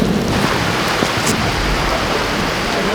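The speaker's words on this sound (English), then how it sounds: "It's supposed to rain for another hour and a half." Steady rain falling outdoors, a continuous dense hiss of drops at moderate level with no talk over it.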